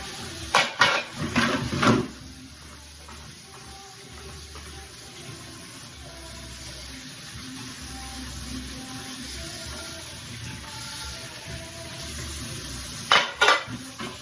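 Dishes, pots and cutlery clatter in a sink as they are washed, with running water throughout; sharp clinks bunch near the start and again near the end, fairly close and moderately loud, with no talk.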